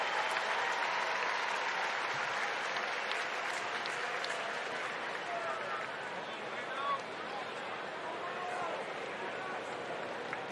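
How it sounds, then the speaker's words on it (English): Crowd applause for Kolten Wong at a Brewers vs Cardinals baseball game in the stadium, a broad steady roar of clapping and cheering at a distance, held at an even level throughout, with a broadcaster's voice over it. "a nice round of applause for Colt Wong"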